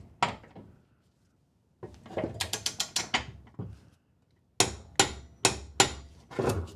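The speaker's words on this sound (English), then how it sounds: "And this time we'll use the torque wrench." A torque wrench tightening the blade bolt on a Husqvarna 54-inch mower produces quick ratcheting clicks in bursts separated by pauses, plus a few metallic knocks, close and clear with no voices.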